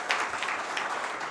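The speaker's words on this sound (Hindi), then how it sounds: "तालियां बजाओ।" Short burst of audience applause for a couple being honored at an Indian public event, dense steady clapping at moderate level with no talk over it.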